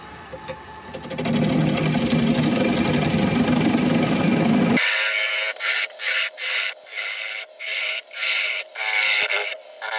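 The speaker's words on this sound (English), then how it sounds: "let's start hollowing out" A wood lathe hollows out a spinning turning with a continuous rough, rubbing cut that stops abruptly midway, followed by short, repeated bursts of cutting.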